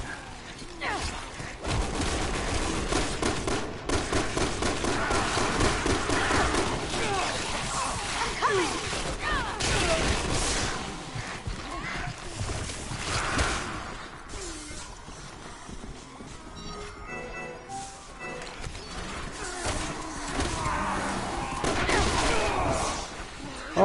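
Dual-wielded pistols fire in rapid bursts through a Resident Evil 6 fight against zombies, loud and dense, mixed with crashes, growls and game noise while a voice talks over parts of it.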